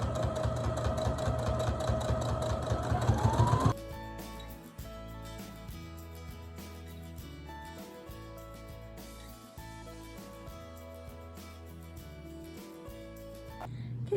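Sewing machine running a straight stitch along placemat binding, a steady mechanical whir that drops to a lower, more even hum partway through, continuing close and unbroken with no talking.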